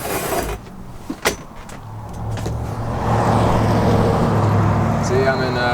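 Road traffic passes along a busy street: a car hum swells and builds into a steady, fairly loud roar, broken by a few sharp clicks and bumps near the start.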